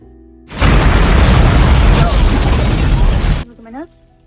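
A huge, sustained bomb explosion from the film White Elephant roars for about three seconds, loud and dense with rumbling low end, then cuts off abruptly into a faint tonal tail.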